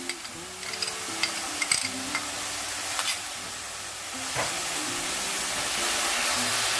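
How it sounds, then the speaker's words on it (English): Vegetables sizzle and fry in a pan as sauce goes in for veg noodles. The hiss is steady, with scraping stir clicks and a few louder spatters, and the sizzle swells near the end. "Now I'm adding my sauce to the veggies."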